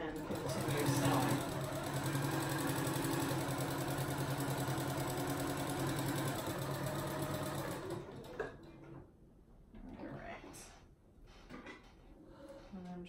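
A sewing machine stitches a rag quilt corner to corner, running steadily for about eight seconds before stopping, followed by quieter handling noises.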